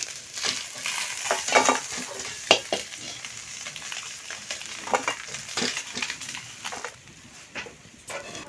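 Small fish frying in a pan for a pui shak chorchori, giving a steady, close, bright sizzle broken by sharp clicks and scrapes of a utensil against the metal.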